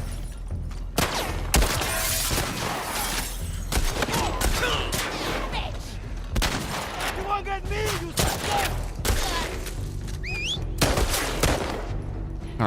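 Gunfire in The Last of Us Part 2: repeated sharp shots and short bursts crack through a busy combat scene, with occasional impacts and faint voices in the background.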